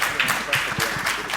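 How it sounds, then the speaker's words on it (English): Short burst of audience clapping for the judges at a startup pitch competition finals in Singapore, brief and moderately loud, with a voice speaking over it. "Let's give a quick round of applause to the judges."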